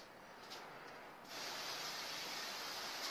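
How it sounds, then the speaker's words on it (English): Silicone spray hisses steadily into atlas stone moulds, a faint aerosol rush that grows louder and fuller partway through and then holds constant, with no voices. "a bit of a spray, a bit of a wipe out with silicone spray"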